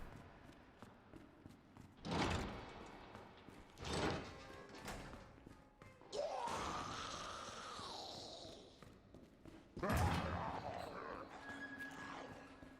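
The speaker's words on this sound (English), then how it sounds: "This door she walks through is on a timer once she walks through it" A door in Resident Evil 2 that Ada walks through, set on a timer, gives a couple of dull thumps followed by a long sweeping whoosh and another solid impact, all within game ambience.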